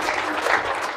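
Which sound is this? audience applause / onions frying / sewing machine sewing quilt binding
audience applause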